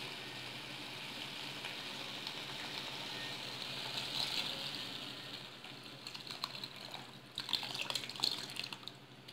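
Tamarind water poured into a pot of pepper-garlic rasam simmering on low heat, a steady running-water pour that swells midway and ends in splashy, uneven trickles, close and alone.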